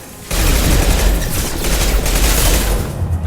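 Sustained automatic gunfire in the video game Mass Effect 2 (Legendary Edition on PS5) starts abruptly and keeps up as a loud, dense, continuous barrage that thins slightly at the end.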